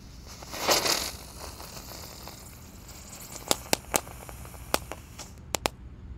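A large spinning top firework fizzes and whooshes early on, at night, followed by a string of sharp, scattered crackling pops at irregular intervals.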